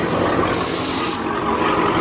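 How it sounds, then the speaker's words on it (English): At a drag racing event, a car sprays nitrous in a loud, steady hiss that swells sharply in the middle of the two seconds over a constant rumble of crowd and engine noise. "Somebody's spraying nitrous."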